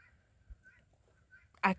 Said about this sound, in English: you might hear a goat here and there, or a duck, or the guineas in the background